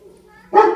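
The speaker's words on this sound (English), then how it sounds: "a little bit of barking is fine as long as he maintains his position" A dog barks once, close and sharp, after a faint whimper, reacting to a doorbell at the front door during door-manners training.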